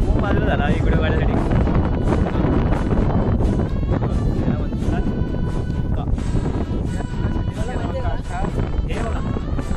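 Strong wind buffets the microphone on Korigad mountain fort, a loud continuous roar with gusty swells, and a voice speaks under it.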